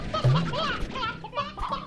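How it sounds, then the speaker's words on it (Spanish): An old hen in the Slime Rancher video game clucks in a few short bursts with rising and falling calls, fairly quiet, alongside other game sounds. "Una gallina vieja también."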